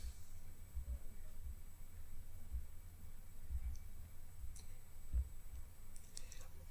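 A few faint, sharp mouse clicks sound close against a quiet, hissy background as the Browse button is pressed in mapping software, spaced irregularly with a couple of clustered taps near the end.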